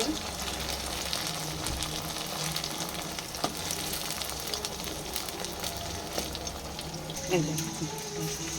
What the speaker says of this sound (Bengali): ওটা ভেজে নিতে হবে। পাল্টে পাল্টে দেওয়া হচ্ছে।